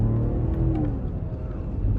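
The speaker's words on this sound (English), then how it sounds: "This car sounds so good." BMW car engine revving in a short burst, a low throaty rumble with a rising then falling pitch heard from inside the car, no talk.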